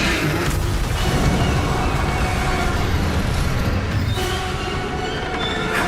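A train in a video game, shown being hijacked by a dragon, rumbles along in a loud, continuous roar with a heavy low-end drone and broadband clatter, swelling and shifting slightly throughout.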